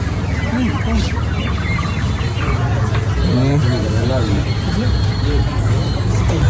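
Chickens cluck repeatedly amid a busy backdrop of crowd chatter and passing traffic, with people talking nearby.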